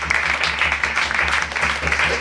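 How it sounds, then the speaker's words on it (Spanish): Church congregation applauding during a Venezuelan evangelical service, steady close clapping with a low hum underneath, continuous for a couple of seconds. "te doy un fuerte aplauso a Dios"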